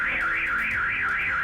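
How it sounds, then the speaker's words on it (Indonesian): A car alarm sounds at a house, emitting a loud, continuous warbling siren that rises and falls steadily and evenly throughout, with no voices over it. "Kedengaran suara alarm dari mobil bunyi"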